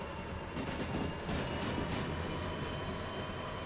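A diesel-electric locomotive in the train game Derail Valley runs with a steady, loud rumbling whir and rail noise that swells slightly and holds throughout, with no talking.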